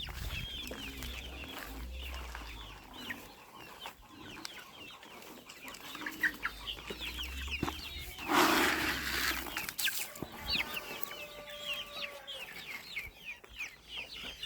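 Bantam chickens and other farmyard hens clucking and pecking at scattered feed, with soft intermittent clucks close by, a brief louder flurry midway, and light rustling throughout.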